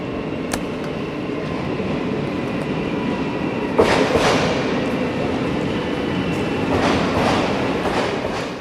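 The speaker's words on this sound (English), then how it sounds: "there is a train." A train rolls past in Amsterdam's residential west, its steady rumble and wheel noise close and loud throughout, with a few sharper rail clatters and squeals rising over the passing cars.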